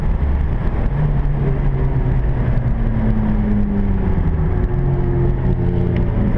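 An Abarth 124 Spider on the Silverstone circuit eases off and rolls back toward the pits, its engine a steady, fairly loud in-car drone that gradually settles lower with no talk over it.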